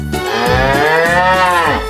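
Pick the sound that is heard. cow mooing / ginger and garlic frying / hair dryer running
cow mooing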